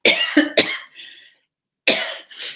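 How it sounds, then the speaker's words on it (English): A few sharp, close coughs in quick succession, a short pause, then two more coughs; no talking. "I'm going to cough for a second"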